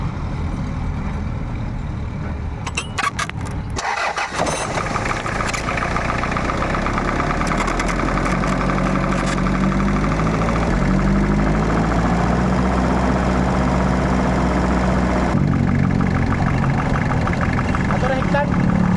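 A diesel engine with its injection pump cranks and starts after some clicking, then settles into a steady knocking idle, loud and close while people talk nearby.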